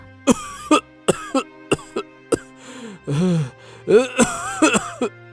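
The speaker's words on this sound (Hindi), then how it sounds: "इतना कहकर बूढ़ा फिर से खांसने लगा।" An old man coughing in a series of short, harsh, close bursts, some clustered in quick pairs, with a longer hacking fit midway and a faint low hum beneath.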